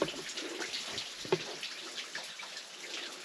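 Running water from a stream beside a camping cave in bushland hiking country, a steady close trickle and splash with brief louder drips, heard alone without talk.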